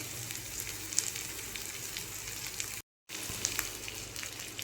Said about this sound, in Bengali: মশলাটা হালকা নাড়াচাড়া করে নিয়েছি।